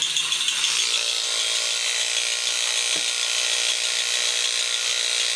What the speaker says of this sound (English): the ratcheting sound that you're hearing